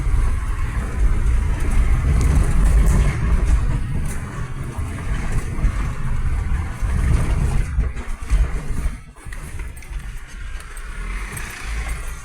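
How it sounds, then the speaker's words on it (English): A car passes on Upper Colo Road in the outback bush, a steady engine and tyre rumble that holds loud for several seconds, then eases and fades as it heads away up the hill. "Another Queenslander car coming past."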